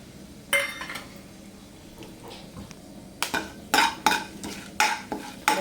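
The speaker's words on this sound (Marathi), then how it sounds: "दोन चमचे तेल टाकते आणि त्याच्यात लगेचच हे गरम मसाले आहेत ना तेजपत्ता आहे मोठी वेलची आहे लवंग मिरी दालचिनी हे सगळं टाकते" Whole spices, namely bay leaf, black cardamom, cloves, peppercorns and cinnamon, are stirred in hot oil for an egg curry, giving quiet sizzling and then a run of close, rhythmic spoon scrapes and clinks against the pan, with no talking.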